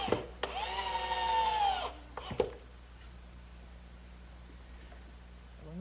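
A power drill drives an all-weather screw into a wooden chair armrest, giving one whirring burst of just over a second that winds down. A couple of sharp knocks follow, then quiet.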